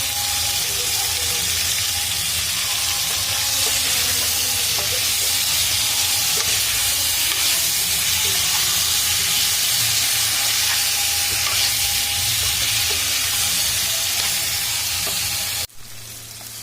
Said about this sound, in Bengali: কলা আর আলু ভালো করে ভাজা হয়ে গেছে।